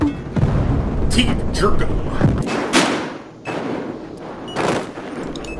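Lever-action double-barrel shotgun blasts in Battlefield Hardline, several loud close booming shots at irregular intervals, mixed with game noise and people talking over them.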